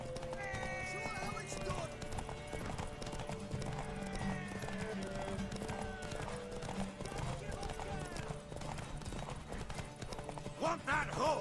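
Horse hooves clip-clop at a steady gallop in The Witcher 3, with an occasional whinny, mixed under game music and character dialogue throughout.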